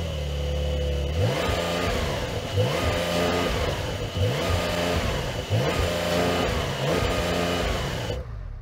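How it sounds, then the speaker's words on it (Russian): Porsche 911 engine revved hard from a standstill, rising in several repeated surges that climb and drop back as if hitting the rev limiter, loud and close for about eight seconds, then cutting off abruptly. "Давайте сравним звучание авто, если поддать газку с места."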